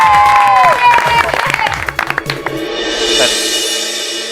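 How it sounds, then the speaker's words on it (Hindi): Applause and cheering from a crowd of schoolchildren for a student, a burst of clapping that starts under a fading musical sting and stays dense and loud before tapering off. "तालियां बजती रहनी चाहिए"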